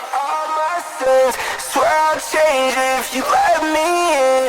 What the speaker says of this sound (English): I've got this guy, Studio D chorus.